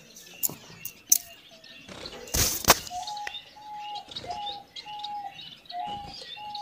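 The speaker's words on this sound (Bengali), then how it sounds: "এখানে দেখতে পাচ্ছেন একজোড়া ইউরোপিয়ান পার্ল ফিন্স।" A pair of European pearl finches in an aviary give short chirps and tweets, with a few louder calls and a brief rustle or flutter of wings, heard close.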